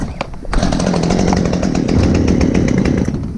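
A chainsaw with an automatic choke starts with a sharp catch and then runs, its loud buzzing engine roaring steadily and close for a few seconds.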